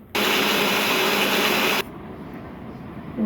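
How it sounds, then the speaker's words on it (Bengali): A kitchen blender whirs loudly and steadily while blending mango juice with sugar, then stops abruptly, leaving a faint hum. "ব্লেন্ডার করে নিয়ে আসি।"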